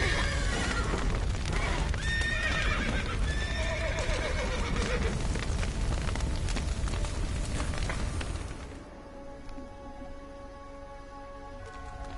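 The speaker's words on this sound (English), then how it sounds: "The horses!" Horses in The Witcher video game neigh and whinny loudly several times over hoof clatter and a roaring fire, and then everything drops to a quieter background.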